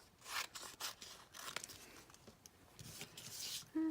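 Scissors cutting paper hearts, quiet close snips and rubbing paper rustles in an irregular rhythm, faint and alone with no talking.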